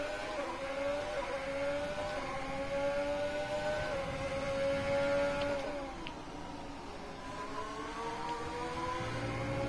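Race car engine in a PS4 racing game, a steady high whining drone with shifting tonal harmonics as revs rise, dip briefly when the throttle lifts, then climb again, loud and continuous with no talk.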